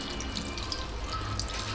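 Water runs steadily from a kitchen tap into a pot, a continuous close splashing hiss with no voices over it.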